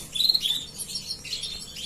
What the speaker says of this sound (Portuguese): Aqui temos mais uma postura de 3 passarinhos